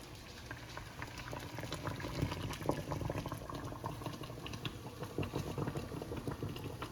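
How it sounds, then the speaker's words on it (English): Maple sap, about five gallons collected that morning, boils down toward syrup with a steady, quiet bubbling and popping that continues without pause. "This year, I'm just boiling it down as I go"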